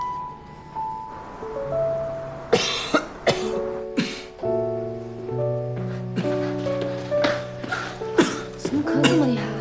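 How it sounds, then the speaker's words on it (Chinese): A woman coughs heavily several times in sharp, harsh bursts, heard close over soft music in a dramatic indoor scene. "怎么咳这么厉害啊"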